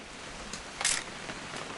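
A single quick camera shutter click in the video game What Remains of Edith Finch, with a couple of faint ticks around it, over a soft background hiss.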